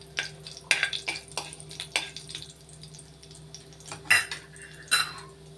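Urad dal is stirred in hot oil in a pan for a beetroot curry, with sharp metal spoon clinks and scrapes against the pan over a faint fry and a low steady hum.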